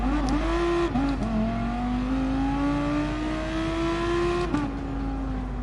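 An Audi R8 with a Lamborghini-derived V10 engine revving in the video game Gran Turismo Sport, a loud, close, sustained engine note climbing steadily between brief gear-change dips.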